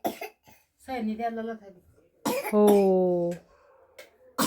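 Dry, persistent cough from someone at home, a couple of short harsh coughs mixed with voiced throat sounds, close and fairly quiet.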